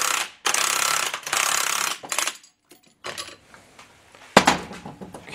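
Ratchet turning puller bolts to draw a bearing out of an SM465 transmission: bursts of close, rapid metallic clicking, then scattered clanks and a sharp metal clatter near the end.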